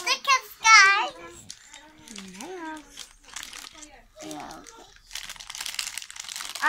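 A plastic blind bag crinkling and rustling as it is opened, heard in short bursts between a child's chatter.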